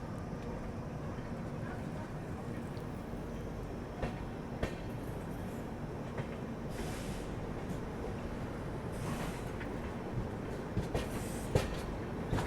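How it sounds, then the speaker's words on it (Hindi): The Shanti Express rake rolls past as a steady, low, faint rumble with scattered light rail clicks, heard from a distance without a break. "ये शांति एक्सप्रेस का रेक है।"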